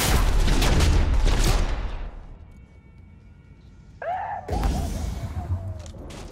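Gunfire in Cyberpunk 2077: a loud, dense volley of rapid shots for about two seconds, then a lull, then another burst that settles into sustained firing and crackling.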